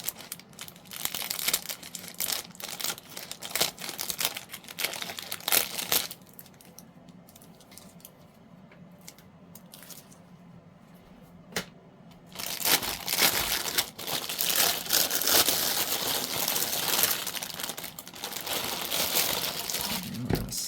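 Plastic bag holding resin tray molds crinkles and rustles loudly as its top is cut open, with a quieter pause midway before heavy crinkling resumes, close to the microphone.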